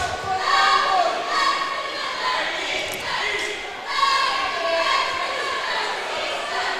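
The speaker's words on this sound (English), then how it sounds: "Lexington High cheer squad down under that hoop, giving Whiteside the business." High school cheer squad crowded under the hoop at a Gahanna vs Lexington boys basketball game, a loud sustained wall of shouting and chanting aimed at a free-throw shooter, swelling and dipping in waves.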